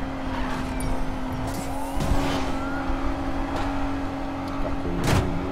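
Audi car engine droning steadily while driving in the Need for Speed Payback racing game, a continuous mid-loud hum with a brief tire squeal or skid near the end, no talk.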